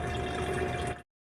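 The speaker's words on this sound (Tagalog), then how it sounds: "Yan, papuno na ang ating inigib na tubig" Water gushes steadily from a pump into a container, a continuous close splashing rush that stops abruptly after about a second.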